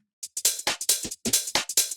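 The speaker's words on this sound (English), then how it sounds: "So the top loop essentially has hats, claps, and like rim shots." Swung speed garage percussion top loop of crisp hi-hats, snappy claps and rimshots, bright and close, repeating in a bouncy groove with no voices.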